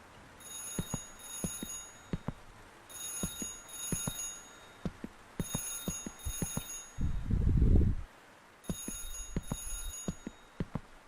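In a horror video game, a telephone keeps ringing in evenly spaced double bursts of shrill electronic tone. It is faint and steady, and a brief low rumble breaks in midway.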